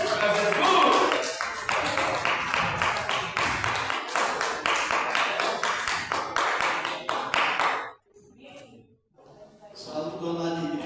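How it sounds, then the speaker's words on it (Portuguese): A church congregation at a worship service claps together in a steady, loud rhythm to welcome their pastor, the applause filling the room before breaking off abruptly into a brief pause and quieter sounds. "Vamos receber nosso pastor Manuel com palmas."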